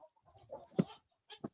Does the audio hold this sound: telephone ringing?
no